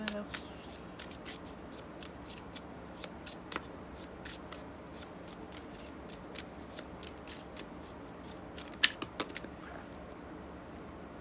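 Tarot cards shuffled and drawn by hand, a dense run of quick crisp flicks and riffles with occasional louder snaps, close and quiet while a person talks at intervals.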